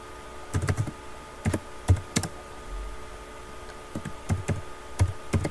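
Text being typed on a computer keyboard, close and crisp, in short irregular bursts of quick key clicks separated by brief pauses, with no voices.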